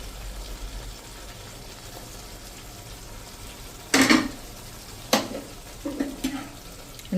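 Fresh coriander being mixed into a cauliflower and green pea curry in a pan with the gas turned off: a few short, close spoon-on-pan scrapes and clatters over quiet background hiss.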